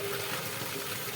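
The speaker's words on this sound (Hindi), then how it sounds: "पानी हमारे गांव ज़बरदस्त गिरत है" Heavy rain falls steadily in a village with a dense, even wash of noise and no breaks or distinct drops standing out.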